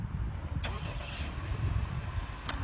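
A 2018 Honda Accord engine starting by remote start: a brief crank and catch settling into a low, steady idle rumble nearby, with a couple of short clicks or chirps.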